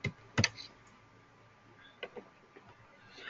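Keys on a computer keyboard tap in a few sparse, quiet clicks, one sharper double stroke early and scattered lighter presses after, against a near-silent room.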